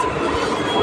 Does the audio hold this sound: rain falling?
no